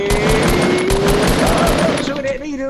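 Rapid bursts of automatic gunfire from a Fortnite match crackle loudly and steadily throughout, with a voice talking over the shooting.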